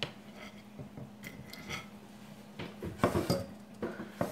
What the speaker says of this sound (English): now cutting up the hot